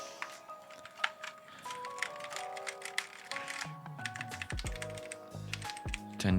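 A beginner Atrix Sniper Series PC gaming keyboard with Cherry mechanical switches is typed on in quick, uneven bursts of close, crisp clicks, with tonal music playing in the background.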